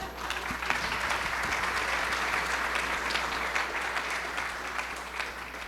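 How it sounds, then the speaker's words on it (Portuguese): A book raffle moment at an economic outlook event draws a dense round of audience applause, many hands clapping steadily at close range with an even, unbroken texture throughout, a faint voice barely audible beneath it. "Aí, ó, salva de palmas."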